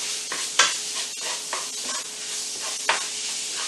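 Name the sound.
crumbled ground pork frying in a pan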